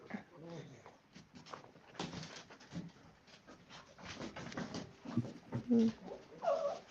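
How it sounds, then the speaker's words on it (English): Several pet dogs pant and whimper restlessly, the sounds faint and scattered, with a voice occasionally mixed in. "my dogs are getting a little rambunctious"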